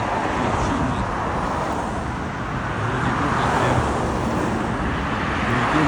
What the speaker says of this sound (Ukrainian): шум від машин, звичайно, не дуже прикольний